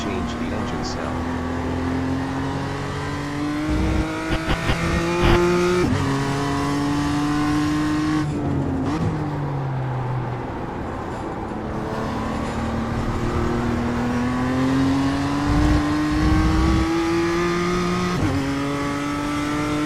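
A BMW M2 engine in the iRacing simulator at Oschersleben revs up and down through the gears in a steady loud drone, with rising pitch sweeps as it accelerates and brief dips on lift-off through the corners.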